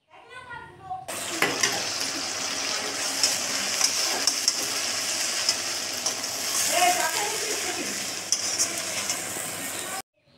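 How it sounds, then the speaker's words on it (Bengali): Onion and cumin spice paste frying in a pan for ghughni, a steady close sizzle with stirring scrapes running throughout. "মশলাটা আমার কষানো হচ্ছে আস্তে আস্তে"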